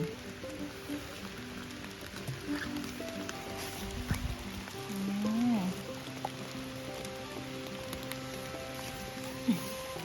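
Rain falls in a forest during a mushroom hunt, a soft, steady patter on leaves under a drawn-out tonal whine, with a brief louder knock midway and another near the end.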